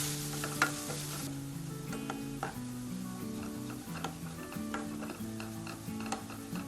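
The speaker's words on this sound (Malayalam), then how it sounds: "ഇനി ഇതൊരു ഗോൾഡൻ ബ്രൗൺ കളർ ആവുന്നത് വരെ മീഡിയം ഫ്ലെയിമിൽ ഇളക്കി കൊടുക്കുക." Beef pepper roast masala for a Kerala-style curry sizzles in a pan over a medium flame while a spoon stirs it, producing a steady, fairly quiet fry hiss with soft scraping clicks throughout.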